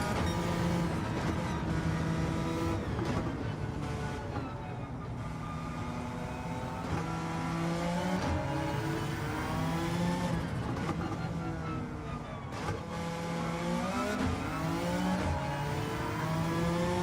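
A tuned, likely engine-swapped race car in Gran Turismo 7 revs hard, its engine note climbing and dropping through repeated gear changes, loud and continuous over the whole stretch.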